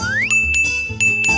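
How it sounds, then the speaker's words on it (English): A bell is rung for someone to come clean up dirty dishes, giving bright, ringing dings that repeat a few times over steady background music. "We can use this bell."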